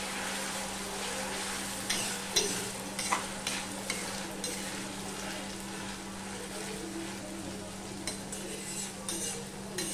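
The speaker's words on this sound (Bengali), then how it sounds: "এবারে আমি অল্প অল্প আলুগুলো ভেজে নেব।" Thin-shredded potatoes fry in oil in an iron wok with a soft, steady sizzle, punctuated by scraping stirs and clinks of a spatula against the pan, with a low hum underneath.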